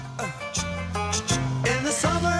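A cover of a hit song, a close copy of the original, plays as a steady rhythmic song with bass, strummed chords and bright percussion throughout, and no talking.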